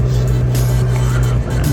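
A car drives calmly through city streets, heard from inside as a steady low engine hum with a constant drone, loud and close, with no one talking.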